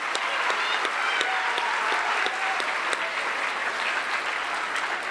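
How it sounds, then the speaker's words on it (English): Steady audience applause for a junior theater group at a junior high school awards ceremony, dense even clapping filling the room for about five seconds with a few scattered voices mixed in. "One more round of applause for our junior theater group."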